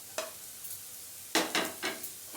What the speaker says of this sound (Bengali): তো আদা রসুনটা ভাজা হয়ে গেছে, এবারে এতে আমি কাঁচা লঙ্কাটা দিয়ে দেব